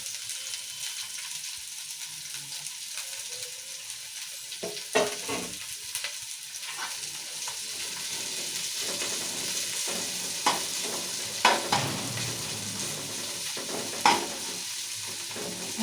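Onions and green chilies fry in a small amount of oil in a pan with a continuous sizzle, while a utensil stirs and scrapes against the pan in several distinct knocks and clicks.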